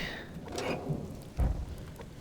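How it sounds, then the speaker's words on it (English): Rain falling in the survival game Subsistence, a steady wash of rainfall with a brief low thunder-like rumble partway through, heard alone without talk. "Why is it raining in my base?"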